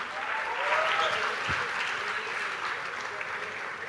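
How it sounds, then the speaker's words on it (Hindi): Audience at a seminar during a college fest at IIT Delhi claps loudly and steadily, a dense wash of applause lasting throughout at an even level, with a faint voice now and then underneath. "जोरदार ताली एवरीवन"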